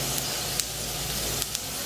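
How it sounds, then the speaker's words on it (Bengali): Half a spoon of white cumin seeds sizzles in hot oil for tempering, giving a steady close frying hiss with a few small pops. "এবার এই তেলের মধ্যে 1/2 চামচ সাদা জিরে ফোড়ন দিচ্ছি।"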